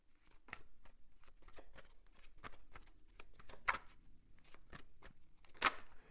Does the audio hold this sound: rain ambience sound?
no